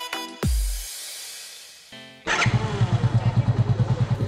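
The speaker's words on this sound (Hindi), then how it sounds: "बाइक अभी स्टार्टिंग में कोई इशू नहीं दे रही है, ना बाइक बंद पड़ रही है" A motorcycle engine starts after its carburetor has been cleaned and refitted, then settles into an even, thumping idle close by. Some brief mechanical noises come first.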